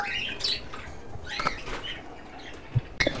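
Doves flapping their wings in an open aviary at a lovebird setup in Karachi, with several short fluttering bursts of wingbeats, moderately close, plus a few faint chirps and small knocks near the end.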